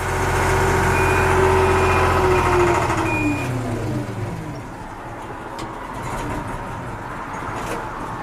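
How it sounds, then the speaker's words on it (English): A UK HGV lorry's diesel engine runs loud and close with a steady droning rumble, its pitch shifting and sliding down after a few seconds before settling into a lower idle. "Engine on, revs up"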